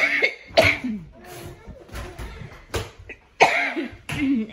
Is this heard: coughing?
yes